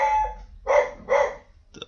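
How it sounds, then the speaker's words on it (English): A dog gives two quick, close barks in succession, preceded by a brief tonal yelp, with short silences between and no talk. "Dog's getting out of hand."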